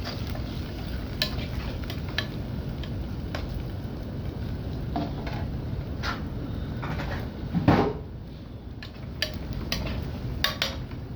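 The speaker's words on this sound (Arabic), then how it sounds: "وبحمر شويه رز اهو" Rice being fried in a pot for koshari gives a steady close sizzle, with scattered scraping and clinking of a spoon stirring against the pot, and no voices.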